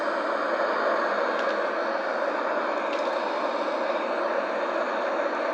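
A Eurofighter jet in a flight simulator game flies toward a runway in Royal Air Force livery, giving a steady, broad engine roar with airy hiss, constant and unbroken throughout.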